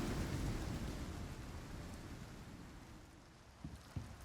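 A storm in the survival game Icarus pours heavy rain with deep thunder rolling loud at first and slowly fading, followed by a couple of short sharp knocks near the end.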